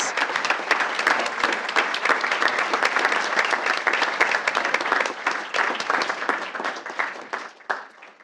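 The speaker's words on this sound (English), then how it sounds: "Let's give these international champions another round of applause." Applause fills a school board meeting for international champions, a dense, sustained wash of many hands clapping at once that thins out near the end, with no talk over it.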